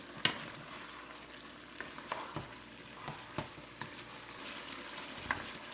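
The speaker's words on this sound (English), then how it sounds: "So you go mix them around a little bit." Curry chicken drumsticks being stirred in a pot over a soft, steady simmering sizzle, with a few light scrapes and knocks of the utensil spaced through it; no one speaks.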